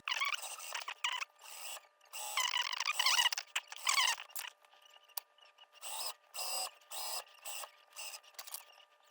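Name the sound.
sewing machine stitching a folded hem on knit fabric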